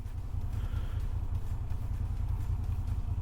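A Moto Guzzi V7 motorcycle with its stock OEM exhaust runs with a steady, low, throbbing engine rumble, close and even throughout with no voices.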